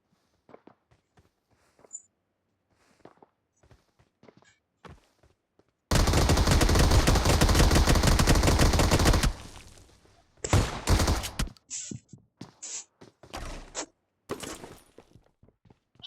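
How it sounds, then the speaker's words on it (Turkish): Gunfire in a video game with a pump shotgun in hand, heard as a dense sustained burst of loud shots lasting a few seconds, followed by scattered sharp bangs and small clicks and footstep-like taps, with no talking. "elimde pompalı var"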